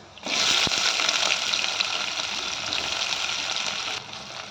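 Onion pieces frying in hot oil with chana dal, urad dal, cumin and mustard seeds, a loud steady sizzle that starts abruptly and holds throughout, with one sharp click near the start and a slight drop at the end.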